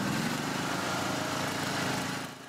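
A lawn mower runs on a suburban lawn in the Westchase community, its steady, fairly loud engine drone continuing without a break before easing off at the very end.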